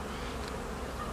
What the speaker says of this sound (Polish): jak te stworzenia, pszczółki, jak sobie elegancko ten tyłek śmigają do ula